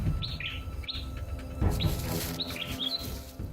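Thin, high chirps from bird chicks in a nest come in short repeated bursts over a steady outdoor background, with a brief rustle partway through.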